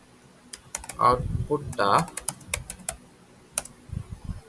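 Clicks of a computer keyboard being typed on in irregular bursts, with someone speaking briefly in between.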